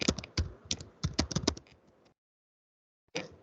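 Fast, light clicking of typing on a computer keyboard, close and fairly quiet, in quick bursts for about two seconds, then a pause before a few more keystrokes.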